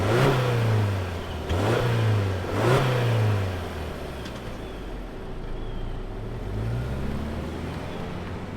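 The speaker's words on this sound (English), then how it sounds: "let's fire up Steven's Crosstrek and see it roll" A 2024 Subaru Crosstrek Wilderness engine revs up three times in quick succession, then eases into a steady drone as the SUV pulls away, with the sound fading slightly.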